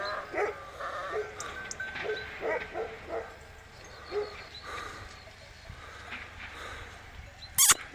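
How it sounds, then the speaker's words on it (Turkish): A dog barks and yips in a series of short, moderately loud bursts, with outdoor background noise and a sharp clatter near the end. "Adamın da büyük köpeği var görüyor musunuz?"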